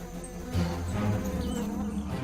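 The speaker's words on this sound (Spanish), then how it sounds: "Escuadrones de avispas carnívoras vuelan por el lugar." Carnivorous wasps flying around at dawn, a close, steady buzzing drone of wings with a slightly rising swell partway through.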